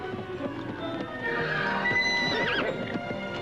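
Horses neigh and whinny loudly in a 1946 film, with a rising, wavering call near the end over soft hoof movement and clip-clop, no talk.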